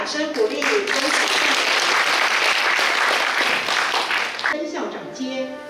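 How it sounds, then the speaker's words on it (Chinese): Audience applause at a school principals' handover ceremony in Changhua County, a loud sustained clapping that fills the clip and thins out near the end, with a voice speaking over it at the start and finish. "请掌声鼓励，恭喜"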